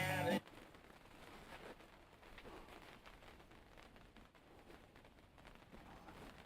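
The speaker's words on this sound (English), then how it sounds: "here comes the rain again" Steady rain falls outdoors as a soft, even patter of drops on surfaces, continuous and moderately close for several seconds after a brief louder sound at the start.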